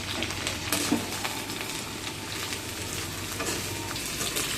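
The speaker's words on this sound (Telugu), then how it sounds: "ఇలా మంచిగా కలుపుకుంటూ ఒక 5 minutes ఫ్రై చేసుకుందాం" Ridge gourd peel and green chilies fry in a pan, a steady hissing sizzle with occasional scraping stirs, close and continuous with no voices.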